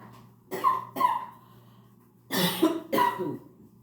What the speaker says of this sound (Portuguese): É uma tosse de quase chorar.